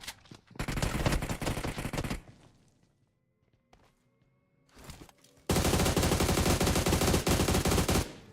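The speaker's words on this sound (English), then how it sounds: "And nice shots there by Fish." Rapid automatic gunfire from PUBG Mobile during a competitive pro-team tournament match: a dense two-second burst, a quieter gap with faint thuds, then a long, loud sustained stream of shots near the listener.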